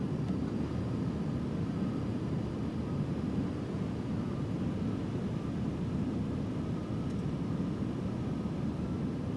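Heavy airliner on approach to landing in Microsoft Flight Simulator, a steady broadband engine and wind roar holding constant and fairly loud throughout, with no voices.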